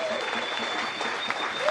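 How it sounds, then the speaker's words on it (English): Crowd applause at a live ocean water-safety fundraising event, a continuous even wash of clapping with a faint steady tone running underneath. "So give yourselves a round of applause."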